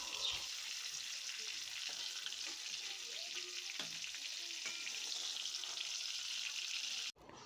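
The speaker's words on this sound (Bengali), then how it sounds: "এখানে বেগুনগুনি আমার ভাজা হয়ে গেছে।" Eggplant frying in hot oil in a wok, a steady, close crackling sizzle with a few stirring knocks, cutting off abruptly near the end.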